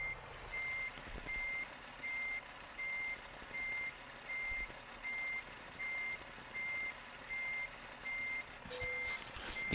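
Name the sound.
truck reversing beeps while hooking up trailer, Euro Truck Simulator 2 video game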